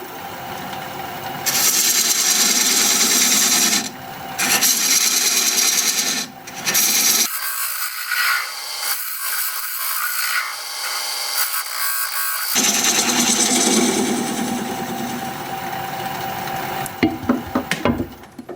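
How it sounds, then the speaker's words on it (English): Recess tool cutting a dovetail into spinning Kamani wood on a lathe, giving a loud, rough scraping drone. The cutting runs in long continuous passes broken by a few brief pauses and no speech. "I'll use my recess tool, put a dovetail on the side here."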